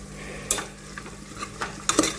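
Guar bean vegetable sizzles in a pressure cooker with a low steady hiss, broken by a few sharp clinks and scraping knocks of stirring or the lid, close by.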